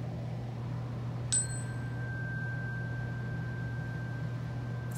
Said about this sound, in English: So with the sound of the chime, our meditation will begin.